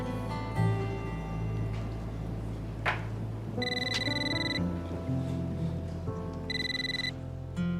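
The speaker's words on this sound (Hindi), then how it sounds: "सैदा मैडम, आपकी वालदा का फोन है।" A telephone rings in two electronic bursts, a steady buzzing trill that repeats after a short pause, over a low background hum.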